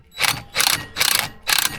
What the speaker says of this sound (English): Hey, you got that 5/8 socket out here? You could hit it with that now.